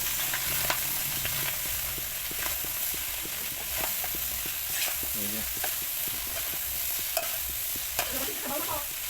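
Duck pieces sizzling and frying in a pan while a spatula stirs and scrapes through them, giving a steady hiss with repeated close scraping strokes throughout.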